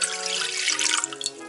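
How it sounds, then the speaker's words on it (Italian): Water pours into a small pan for a zeppole dough, a short, bright splashing stream whose pitch climbs slightly as the pan fills. "in un padellino andiamo ad inserire l'acqua"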